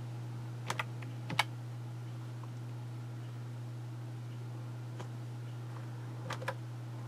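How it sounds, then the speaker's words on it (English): A few quick clusters of key presses on a computer keyboard, faint clicks in short groups against a steady low electrical hum in a quiet room. "So size, you can type in the size that you want."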